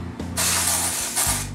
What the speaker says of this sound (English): This is the Batiste dry shampoo.